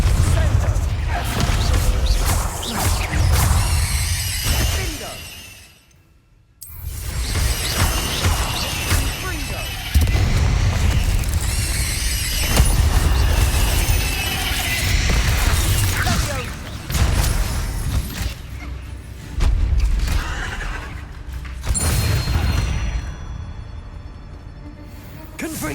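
Confringo blasting spell explosions in Hogwarts Legacy, loud repeated blasts and crashing impacts going almost nonstop, broken by one brief quiet gap.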